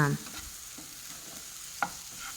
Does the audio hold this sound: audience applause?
no